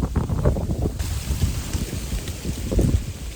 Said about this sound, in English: And this north wind just started howling.